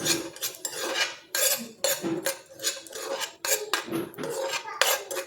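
Raisins stirred in a pan with a metal spoon, giving repeated close scraping and clinking strokes in an uneven rhythm with short pauses between them and no talking.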